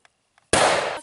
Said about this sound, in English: there will be gunfire.